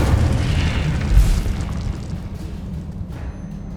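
The Incendio fire spell from Hogwarts Legacy bursts out as a heavy, rumbling whoosh of flame, loudest at the start with a low boom, then dies off into a steady crackling roar.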